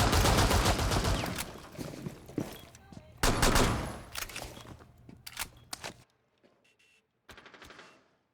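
Rapid automatic gunfire in a shooter video game, coming in several loud dense bursts with short gaps between them, then tailing off into quieter scattered shots near the end.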